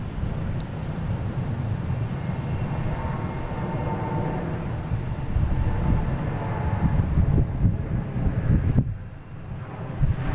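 An Etihad jet at Boston Logan International Airport, a steady broadband engine roar with wind buffeting the microphone, holding loud and close throughout before dipping briefly near the end.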